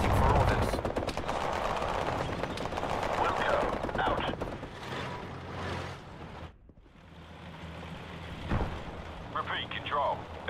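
Bren machine gun fire with the ImmersiveSounds mod in a 3v3 video game, loud rapid bursts and battle noise, then a short lull and scattered shots, with voices speaking over the action.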